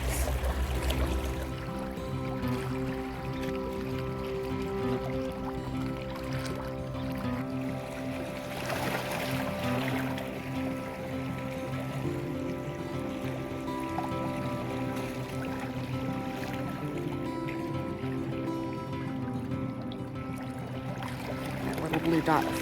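Calm lake water laps softly with small splashes and wavelets, a quiet, steady near-shore wash that carries on under a low continuous hum throughout.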